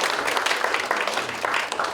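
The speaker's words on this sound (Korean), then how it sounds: "여러분 큰 박수로 축하해 주시길 바라겠습니다." Audience applause at an award ceremony for an agricultural industrial complex event in a research institute auditorium, steady dense clapping throughout at a moderate level, with no voices over it.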